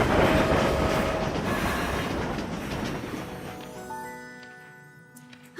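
A train rolling along rails, a loud rumbling clatter that gradually fades away, leaving high squealing wheel tones and ringing metallic notes as it recedes.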